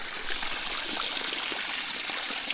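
Mountain spring water trickling and dribbling steadily from an old spring-fed source, a soft, continuous close splashing with no voices.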